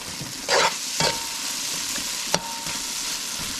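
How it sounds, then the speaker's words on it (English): Cauliflower sautéing in a pan, a steady close sizzle broken by a few scraping stirs and one sharp clack of a utensil against the pan. "we're gonna let this toast or saute for maybe another 5 minutes"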